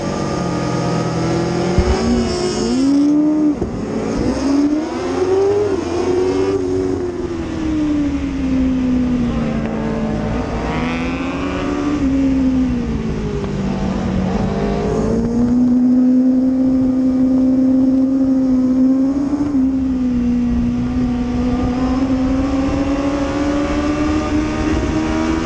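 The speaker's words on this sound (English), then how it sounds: "With a quick shifter, you can upshift without lifting off the throttle or pulling in the clutch." A motorcycle engine runs steadily under load while a quick shifter makes clutchless upshifts without the throttle closing. The tone dips briefly at each shift and then climbs again in a continuous, close, loud drone.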